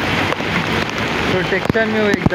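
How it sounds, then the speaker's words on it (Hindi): Heavy monsoon rain pours steadily in Mumbai, a dense hiss close around a man in a full raincoat, with him speaking over it throughout. "बारिश मजबूत हो रही है"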